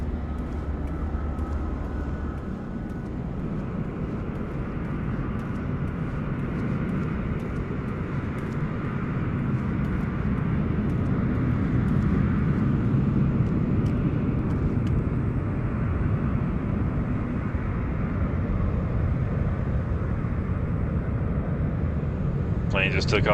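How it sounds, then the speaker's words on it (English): A jet airliner taking off at LAX airport at night, its engine roar a loud, broad, sustained rumble that holds steady and swells slightly over the stretch. "Plane just took off. Sounded awesome."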